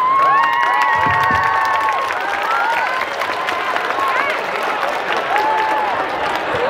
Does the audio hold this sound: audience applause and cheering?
yes